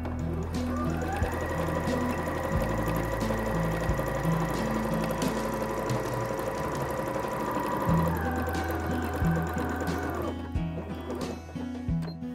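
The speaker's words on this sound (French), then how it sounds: "j'épingle et je pique à la machine" A home sewing machine stitches fabric pieces for a two-material sweater, running in a steady, fast whir with a rhythmic mechanical pulse for about ten seconds before slowing and stopping near the end.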